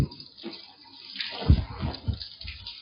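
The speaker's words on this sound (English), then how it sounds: "Rinse my apron off." Running water splashes while an apron is rinsed, a soft irregular rush with a few louder gushes in the middle, close by and without talk.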